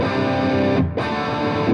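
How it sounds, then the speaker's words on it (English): Distorted British-style rock guitar tone through a Blackstar HT Venue MK3 valve amp, EQ flat, played as a loud sustained chord with a brief dip before ringing on. "and we now have a more British kind of rock tone."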